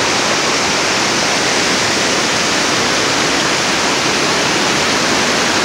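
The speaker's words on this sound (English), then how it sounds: "Enjoy the sound of the water." Steady, loud rushing of the Nantahala River, a dense continuous roar with no pauses and no voices.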